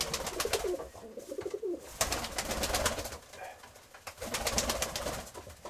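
Domestic pigeons kept indoors through winter coo in soft, repeated throaty phrases, several birds overlapping close by, with a brief rustle between bouts.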